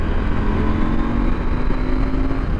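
A 2023 KTM 890 Adventure R motorcycle engine drones steadily and loudly up close while being ridden at sunset, with a continuous rumbling hum and no talking.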